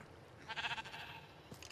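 Sheep bleats in the Minecraft video game on PlayStation 4: a single short, nasal bleat rises briefly and then fades, heard alone and fairly faint.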